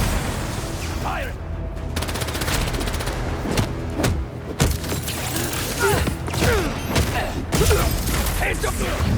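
Soldiers open fire in Marvel's Spider-Man 2, a sustained ragged fusillade of gunshots with sharp cracks and mechanical clatter running through the whole stretch, loud and close amid busy game action, with voices speaking over it.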